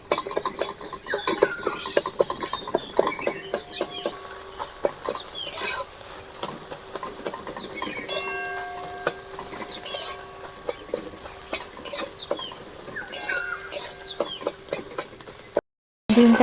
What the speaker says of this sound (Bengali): খুন্তির সাহায্যে এবারে আমি ছোট ছোট করে কুচি কুচি করে নেব।